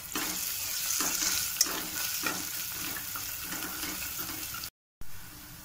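Ginger paste, salt, turmeric and curry leaves frying in hot oil for an Andhra-style mutton gravy, giving a steady close sizzle with soft scraping stirs, broken by a brief silent gap near the end.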